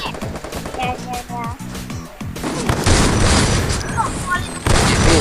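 Booming grenade blasts and rapid gunfire from Free Fire erupt loudly, preceded by quick rhythmic clatter, with noisy rumbling throughout.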